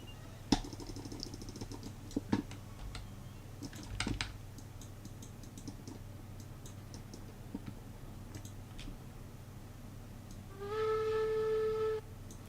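A steam locomotive whistle in a train video game blows once near the end as a loud, steady multi-tone blast, after a long stretch of soft keyboard typing and clicks.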